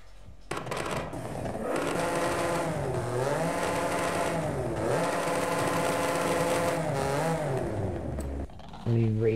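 A Toyota Celica's engine in the racing game Forza Horizon 5 revs and pulls through rising and falling sweeps. It stays loud and continuous for several seconds, then cuts off near the end.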